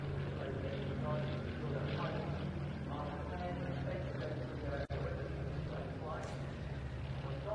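A Yak 50 tail-wheel training plane with a 360 to 450 horsepower engine flies at an air festival, its propeller drone rising and falling at a distance while a commentator talks steadily over it.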